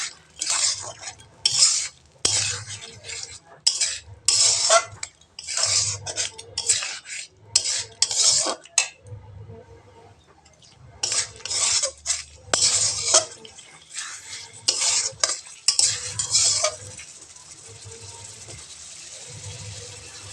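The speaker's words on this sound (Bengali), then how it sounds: "চিংড়ি মাছ দেওয়ার পরে এবার ভালোভাবে নেড়ে নেব" A utensil stirs shrimp in oil in a pan, giving repeated scraping, clinking strokes in rhythmic bursts with short pauses and a soft sizzle between them. It fades to a quieter hiss near the end.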